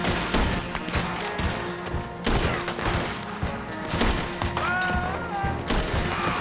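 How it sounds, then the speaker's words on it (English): Gunfire in a Red Dead Redemption 2 shootout, with repeated sharp shots and bursts in a dense, loud volley over several seconds, mixed with other game noise. "Why aren't you shooting?"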